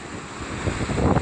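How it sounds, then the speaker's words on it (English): Strong wind gusts across the microphone at the ocean shore, a dense roaring rush that swells toward the end, with surf blended into the bluster. "Lots of wind right now."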